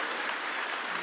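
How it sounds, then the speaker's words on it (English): Dense audience applause at an animation awards ceremony, a brief, steady burst of many hands clapping at once. "please, big round of applause, Steve Loader, Pilar Flynn, Rafael Chaves"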